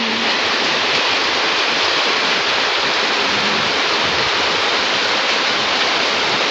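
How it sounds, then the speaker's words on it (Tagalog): A dense, continuous rush of heavy rain and flowing floodwater fills the air in front of a house after a night-long downpour, loud and unbroken, with nobody talking. "Magdamag yung ulan."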